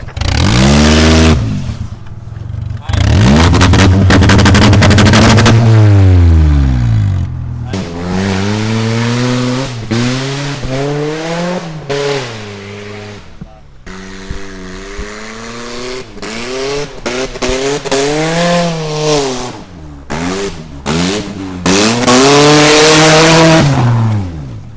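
A cheap race car bought off an online marketplace revs hard, its engine sweeping up and down through repeated loud pulls while the tires squeal in long skids, all close and dominant across the whole stretch.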